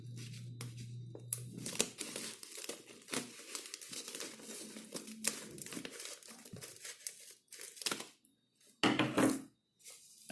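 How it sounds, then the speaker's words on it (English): A plastic nursery bag being cut open while potting a fig tree bonsai, close crinkling and rustling of plastic in irregular bursts with short pauses near the end. "we're going to take the nursery bag and we're going to cut it."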